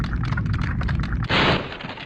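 Busy, percussive video game sound effects give way to a bright, shimmering burst held for a moment, a short triumphant dragon-rescue reward flourish with nobody speaking.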